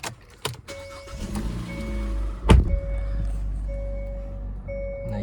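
A 2018 Hyundai Kona Active starts up with a sharp crank and catch, then settles into a steady idle while repeated electronic warning beeps chime inside the cabin, with no one talking.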